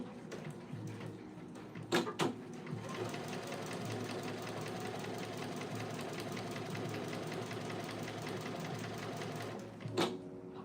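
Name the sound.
sewing machine top stitching fabric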